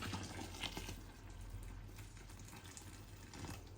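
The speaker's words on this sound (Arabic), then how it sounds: "وهسه راح نضيف عليها المي." Water is poured into an Iraqi kubba dough mixture, a faint, continuous splashing and trickling with soft uneven bursts throughout.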